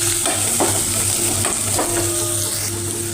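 Spiced samosa filling with turmeric frying over medium heat in a pan, a loud continuous sizzle broken by several scraping stirs of a spoon, no talk.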